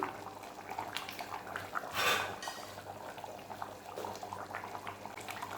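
A pot of chicken biryani liquid bubbles and simmers in a home kitchen, a soft continuous burble with a brief louder splashy surge midway, heard fairly close.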